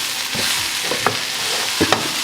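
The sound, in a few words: stirring salted vegetables in a pan for chicken curry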